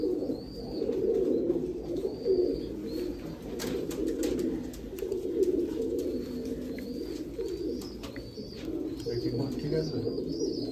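Royal Teddy pigeons coo continuously in deep, rolling, throaty murmurs, close and moderately loud, with faint higher chirps and a person speaking now and then.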